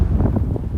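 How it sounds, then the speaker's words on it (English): Wind buffets the microphone while riding a motorcycle in open country, a loud, continuous low rumble with gusty fluctuations throughout the short burst. "get out of this damn wind"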